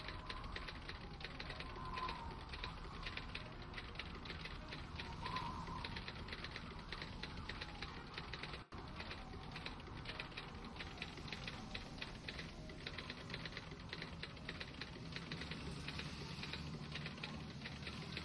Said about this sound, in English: He can't hear me over his typewriter.